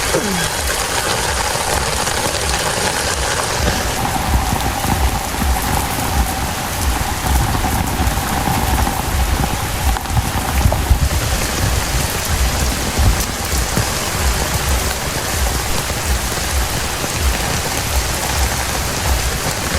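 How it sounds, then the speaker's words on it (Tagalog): Heavy southwest monsoon rain pours steadily and loudly throughout, drumming on surfaces nearby, with a low engine-like rumble underneath. "Ang lakas ang ulan."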